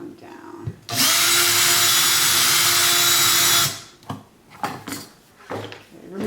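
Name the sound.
power drill drilling a hole through an old book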